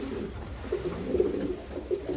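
Pigeons coo softly and repeatedly inside a pigeon loft in Bibrka, near Lviv, a low, rounded murmur that rises and falls in several close overlapping calls over a steady background hum, with no speech.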